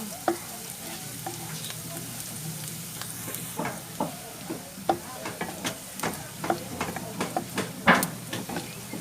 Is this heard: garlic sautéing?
yes